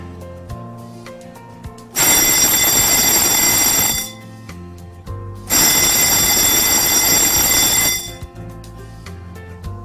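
Fire alarm bells ring during a test of a fire alarm panel in a karaoke room: two loud, continuous metallic rings of about two seconds each, separated by a short gap, with quieter tones beneath.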